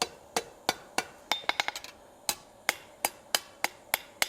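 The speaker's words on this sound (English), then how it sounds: "I'm going to take a quick moment and just dress the fishtail over the horn of the anvil" Hammer blows on hot steel as a forged fishtail is dressed over an anvil horn, sharp ringing strikes in a steady rhythm with a quick flurry of lighter taps in the middle, close and distinct.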